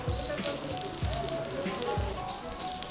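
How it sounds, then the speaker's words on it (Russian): Rain pattering steadily at a small, compact train station, a continuous wet hiss with low thumping footsteps or handling noise mixed in and a voice murmuring faintly beneath. "Дождь."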